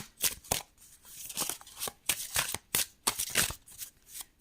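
Tarot cards shuffled by hand for a reading, a rapid series of close, crisp riffling bursts separated by brief pauses, with no talking over them.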